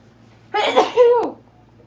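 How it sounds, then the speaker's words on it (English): A single close sneeze from a person painting tiny dots, with a sharp breathy burst and a voiced tail that ends in a quick click, loud against a quiet room hum. "Uh-oh, I'm going to sneeze again."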